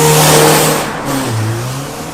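A Ford Mustang GT350 engine revs hard and loud, holding a high, raspy pitch before dropping into lower gurgling tones as the revs fall off.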